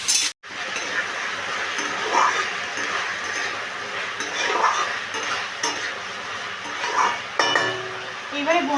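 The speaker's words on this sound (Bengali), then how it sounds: "দিয়ে এবার মশলার সাথে, আলুর সাথে ভালো করে এটাকে মিশিয়ে নিচ্ছি।" A spoon stirs chopped potatoes and spices around a hot pan for a Bengali goat-offal kosha recipe, with soft scraping strokes and light sizzling repeating steadily while a voice talks over the cooking.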